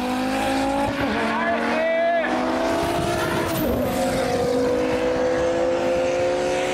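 An Audi S2 super saloon race car with four-wheel drive accelerates hard through gear changes, its engine note climbing in rising sweeps, then holding a high, steady drone, loud and close, while voices talk over it.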